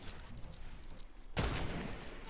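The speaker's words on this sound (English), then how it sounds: "Ah, they're shooting at me." Gunfire in the Fortnite video game, a quieter stretch of scattered shots that gives way to a sudden loud burst of rapid fire near the end.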